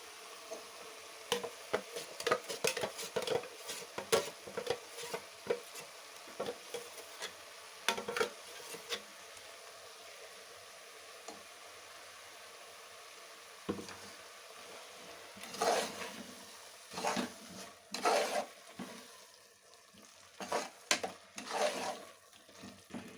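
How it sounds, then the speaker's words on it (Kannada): Freshly ground masala fries in a pan with potatoes and sprouted horse gram, a soft sizzle broken by bursts of spoon scraping and stirring clatter that come and go irregularly, nearby and with nobody talking. "ಮಸಾಲ ಸ್ವಲ್ಪ ಅದರಲ್ಲೇ ಜೊತೆಗೆ ಫ್ರೈ ಆಗ್ತಾ ಇರಲಿ."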